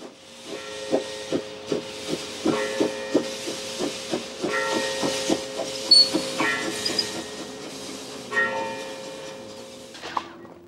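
The ED33 steam locomotive of the Zürcher Oberland steam railway works up speed, giving a steady rhythmic chuff of hissing exhaust beats that comes closer. A thin whistle tone holds in the background, with no talking.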